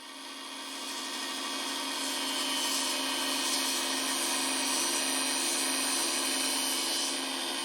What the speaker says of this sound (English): Take it to the miter saw and go ahead and cut this out.